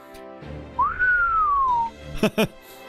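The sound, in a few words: Da Vinci whistling in Fate Grand Order video game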